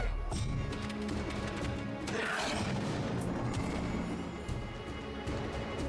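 A dense, rumbling wall of battle noise from the fantasy strategy game Songs of Conquest, with booming explosions and crashing impacts blending into a continuous loud roar.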